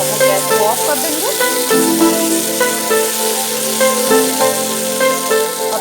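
Oil sizzles steadily around potatoes frying in a pan on a gas stove, a dense, continuous crackle close by with faint music-like tones underneath.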